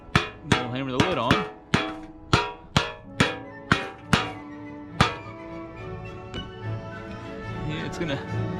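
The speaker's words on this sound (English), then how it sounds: "We'll hammer the lid on." A series of sharp metallic hammer strikes as a lid is hammered onto a metal TLUD gasifier stove container, about ten evenly spaced blows ringing close by, then quieter rattles and shuffling.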